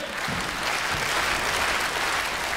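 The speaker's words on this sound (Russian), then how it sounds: "Ваши аплодисменты" A theater audience at a comedy show gives a steady wash of applause, dense and even throughout with no talking over it.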